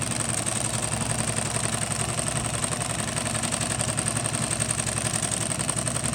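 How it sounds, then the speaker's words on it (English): A 68 class large-bobbin industrial sewing machine driven by an Efka servo motor runs steadily while stitching webbing, giving a continuous close, even mechanical thrum with a rapid regular pulse and no talk. "We're going to sew on some webbing here just to show you how it works,"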